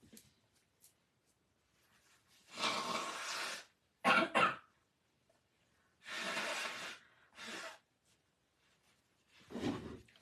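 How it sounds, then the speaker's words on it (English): Several loud, breathy bursts of nose blowing, spaced a couple of seconds apart and close to the microphone, with quiet pauses between. "for blowing my nose"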